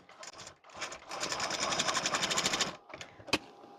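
A sewing machine runs in a steady rapid stitching burst while sewing tucks on a blouse, starting and stopping briefly before a longer continuous run, then a pause and a sharp click near the end.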